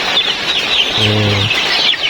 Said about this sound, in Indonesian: Ini tuh ayamnya jenis KUB ya